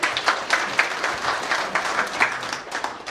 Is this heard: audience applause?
yes